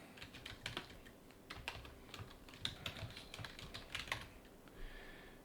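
Someone types on a computer keyboard, a quiet, irregular patter of key clicks with occasional firmer taps, close and alone without speech.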